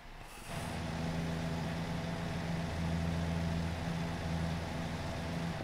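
Volvo truck engine in the video game American Truck Simulator: a deep, loud diesel drone that kicks in after a short hiss and holds steady, with a low rumbling throb.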